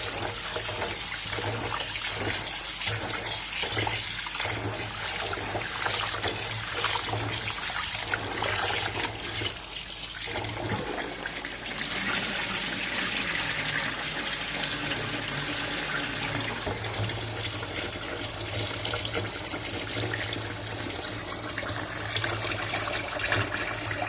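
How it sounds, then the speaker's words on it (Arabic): Rice is rinsed in water in a home kitchen, a continuous close splashing and trickling wash with faint rhythmic sloshes early on, steady throughout with no talk. "اغسل كده شويه الرز بردك"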